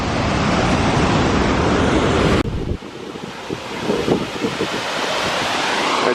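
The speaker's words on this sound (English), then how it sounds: "You got all this snow water coming down out of the mountains. Freshly melted snow water." Snowmelt water rushes down from the mountains near Mendenhall Glacier in Juneau, a loud broadband roar of flowing water with wind buffeting the microphone, which shifts abruptly midway to a softer, splashier stream sound.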